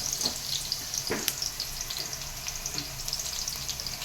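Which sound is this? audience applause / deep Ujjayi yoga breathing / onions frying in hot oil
onions frying in hot oil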